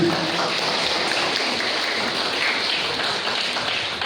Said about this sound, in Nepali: ताली बजाउनु रे ताली